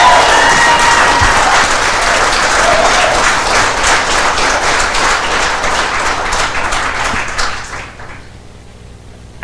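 An audience at a school board meeting claps in dense, sustained applause for several seconds, then the clapping thins out and dies away into a quiet room.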